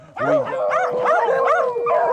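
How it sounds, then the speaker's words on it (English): Several beagles barking and baying near the listener in a steady run of yelps and howling barks, with whimpering yips mixed in and no voices over them. "beagles are notorious for their barking, but Dave has a solution"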